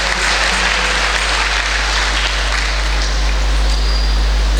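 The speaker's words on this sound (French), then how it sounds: "On applaudit pour notre Seigneur Jésus." Congregation applauding at a First Communion Mass on the feast of the Blessed Sacrament, a steady, dense wash of clapping filling the church for several seconds over a low hum.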